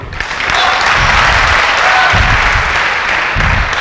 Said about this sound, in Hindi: बजा लो ताली एक बार